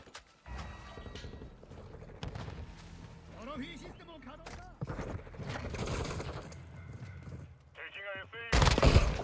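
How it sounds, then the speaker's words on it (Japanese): Bursts of gunfire and mechanical clatter in Call of Duty: Modern Warfare II multiplayer, with people talking throughout and a loud blast near the end. "なんで銃声がする？"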